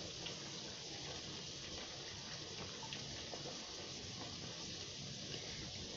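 Water poured into a pot of sambar made from instant podi, a steady, even gushing pour running unbroken and fairly close, with no voices over it.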